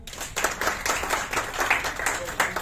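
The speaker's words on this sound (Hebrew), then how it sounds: "כפיים מי ששתיים." Several people in a talk audience clap along in answer to a show-of-hands prompt, a busy, fairly loud run of overlapping claps that fills the whole stretch.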